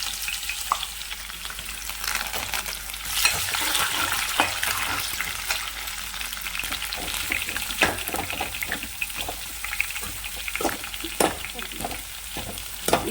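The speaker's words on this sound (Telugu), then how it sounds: "ఎండుమిరపకాయలు వేసేస్తున్నానండి." Dried red chillies and onion frying in very hot oil in a home kitchen, with a steady close sizzle broken by sharp crackles and stirring clatter throughout.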